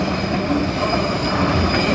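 An ordinary electric commuter train passing near Cologne Cathedral in Germany, a loud, continuous rolling rumble with faint wheel squeal and steady tonal hum, close by with no voices.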